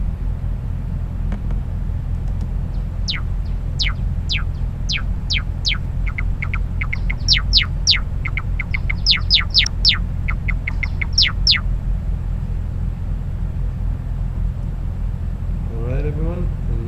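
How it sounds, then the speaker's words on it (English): A recorded bird sings a series of clear, rising whistled notes, sparse at first and then bunched into quick runs, over a constant low rumble of background noise before fading to quiet. "right now we're gonna listen to the original bird song by"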